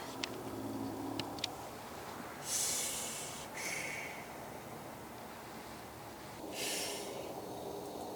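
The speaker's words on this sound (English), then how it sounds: "Did you just hiss at me?" Two short breathy hisses a few seconds apart, each a bright airy burst, with a fainter rasp between them over quiet room tone.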